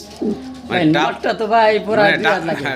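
Pigeons coo at a pigeon sale, with rolling, throaty coos repeated close by and a voice talking over them.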